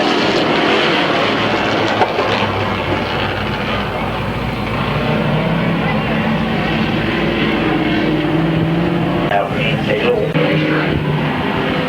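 Race cars roar around a short speedway oval at a local track in 1995, a continuous loud engine drone filling the whole stretch with a commentator talking over it.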